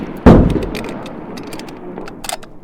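A bolt-action rifle fires during a timed shooting challenge with compulsory reloads at a range in Thun. One loud, close shot cracks and rolls away, followed by faint mechanical clicks and distant sounds.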